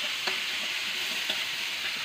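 Stir-frying over low heat while making Thai pad kaphrao, a steady gentle sizzle with two light spatula taps, close and without talk.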